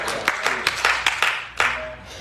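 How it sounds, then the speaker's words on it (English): A church congregation claps in scattered, uneven bursts, about eight sharp claps over two seconds, fairly close and mixed with murmured voices. "A little half clap"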